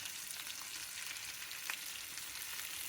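Fish frying gently in oil in a pan over low heat, a steady close sizzle with faint crackles and pops throughout and no talking.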